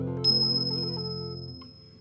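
A bright chiming bell effect for a magical ringing peach in a Hungarian folk tale, one clear ding struck near the start over soft sustained music, its tone ringing on and slowly fading.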